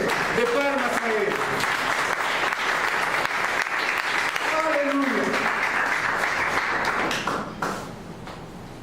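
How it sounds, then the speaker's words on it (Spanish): A church congregation gives a loud, sustained round of applause, dense clapping that fills the space for several seconds before tapering off, with a voice calling out briefly over it. "Dale una ofrenda fuerte de palmas a Él."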